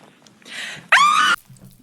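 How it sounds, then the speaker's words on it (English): A woman lets out a loud, piercing scream in a played political clip. It comes as one sharp burst of about half a second, preceded by a softer breathy cry. "that loud scream she just let off shows that she knows she lost"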